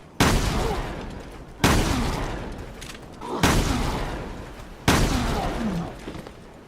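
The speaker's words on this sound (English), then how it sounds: "4 shotgun shells to take down an iron head with the M147S" Four loud, close automatic shotgun blasts from the M147S in Resident Evil Revelations 2, each a sharp boom trailing into a decaying tail, spaced roughly a second and a half apart.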